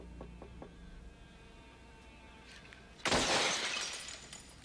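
Car glass shatters in a stunt scene from Highlander 2. One sudden loud crash breaks out of a low hum, and the scattering debris noise trails off over about a second.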